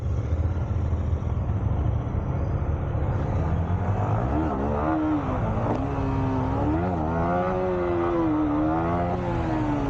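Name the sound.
vehicle engine revving in first gear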